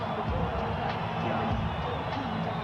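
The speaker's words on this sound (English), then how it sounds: "It's not an overwhelming cheer, but it's certainly in Tyson's favor." Boxing arena crowd ahead of a Mike Tyson bout against Orlin Norris, a steady broad roar of cheering and crowd noise, moderately loud and continuous throughout, with no single voice standing out.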